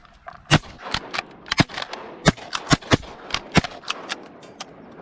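Shotgun blasts fired at ducks during a duck hunt, roughly a dozen sharp, loud reports in an irregular volley, some close together and others spaced out, with no talking.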